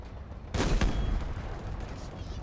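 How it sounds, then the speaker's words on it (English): Artillery fire in the Halo Infinite video game: two heavy booming blasts land close together, followed by a lingering rumbling tail over steady background game noise. "Artillery, artillery."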